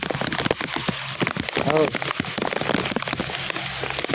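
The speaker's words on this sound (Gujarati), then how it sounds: "ધીમે ધીમે વરસાદ તો એટલો બધો છે ને વાત જ જવા દો ઘણો બધો આવે" Heavy monsoon rain pours down near a home with egret nests, a dense steady hiss of drops striking surfaces, with a brief voice or call rising faintly above it.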